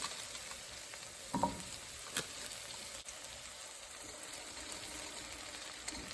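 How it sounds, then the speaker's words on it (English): Butter sizzling in a pan as the base of a roux for spicy potato soup, a steady close crackle with a couple of brief clinks and stirring sounds. "I'm gonna throw in about 3 tablespoons of butter"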